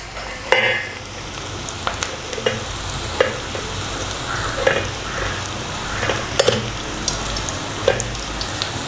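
Oil sizzles steadily as onions fry, with occasional sharp clinks and scrapes of a spoon stirring in the pan; no talking.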